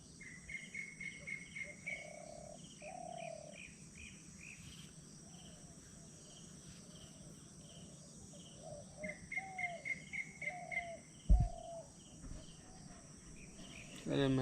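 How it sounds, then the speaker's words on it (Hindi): Birds chirp in short repeated bursts over a steady high insect trill, fairly faint and distant, with a brief thump near the end, in woods at night by Morbe Lake. "और यहाँ चिड़ियों की आवाज़ है।"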